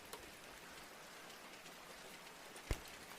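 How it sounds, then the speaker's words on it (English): Gentle rain falling outside a window at night, a soft steady patter with a couple of sharper drops, heard alone and faint. "You try to focus on the gentle sounds of the rain outside your window."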